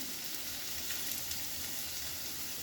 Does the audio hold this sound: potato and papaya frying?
yes